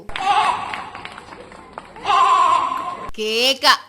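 A voice imitates a goat, letting out several wavering bleats with short pauses between, ending in a higher, shakier cry.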